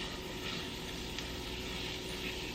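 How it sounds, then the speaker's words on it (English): Butter sizzling in a hot pan left from cooking chicken gives off a soft, steady hiss with no break, fairly quiet and heard on its own. "toss in a little bit of butter just to kind of deglaze the pan just a little bit"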